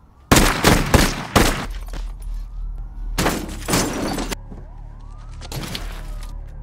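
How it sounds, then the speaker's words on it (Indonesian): Several loud pistol gunshots from the film Nightcrawler crack in quick bursts, a tight cluster first and then two more groups, with a siren wailing faintly behind. "memegang pistol lalu menembak Rick beberapa kali"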